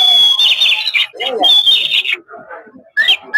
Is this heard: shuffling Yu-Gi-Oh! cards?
no